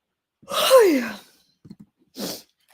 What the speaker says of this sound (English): If the yawn didn't give it away